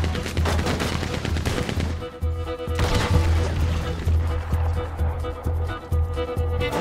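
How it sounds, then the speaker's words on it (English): Rapid gunfire from a Red Dead Redemption 2 shootout, with dense overlapping shots and bursts crackling loudly throughout, a few heavier blasts standing out. "That's a lot of shooting"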